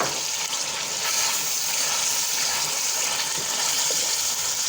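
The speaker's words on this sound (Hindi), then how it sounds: "हम इसमें थोड़ा सा ज़रा सा पानी और शामिल करके इसके मसाले को मज़ीद अच्छे से भून लेंगे।" Beef karahi masala being fried in a karahi with a splash of water added, giving a steady, close hiss and crackle of sizzling that continues without pause and with no talking.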